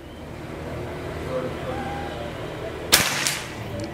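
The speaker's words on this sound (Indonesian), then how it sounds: "Sekarang tembakan yang kelima." A single sharp air rifle shot cracks out loud and close, the fifth in a series, followed by a softer echo-like click, over a low background hum.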